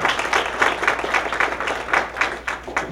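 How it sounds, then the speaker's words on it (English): A seminar audience gives another round of applause for speaker Roger Featherstone after his talk on Arizona's mining crisis, a modest crowd clapping in a loose, fairly close patter that thins toward the end. "Let's give another round of applause for our speaker"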